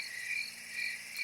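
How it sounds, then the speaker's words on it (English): Steady high-pitched insect or frog chorus trilling continuously, a dense outdoor night ambience with pulsing chirps at moderate level and no other sounds. "Crickets."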